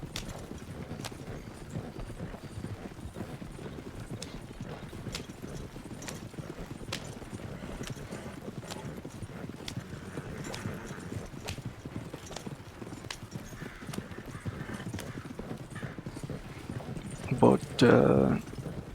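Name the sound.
horse hooves in a video game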